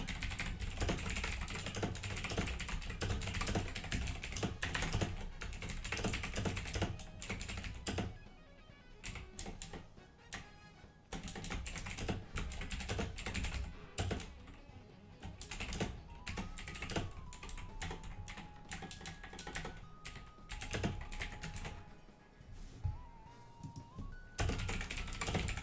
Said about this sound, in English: Keyboard is so loud, man.